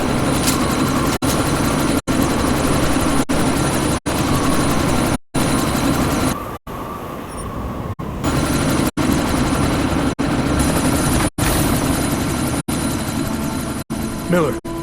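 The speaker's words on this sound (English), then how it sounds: "you need to disable that chopper" Helicopter engine and rotors in the video game Deus Ex Mankind Divided during a sandstorm, a loud constant rotor roar and engine drone broken by brief cutouts, with voices talking over it.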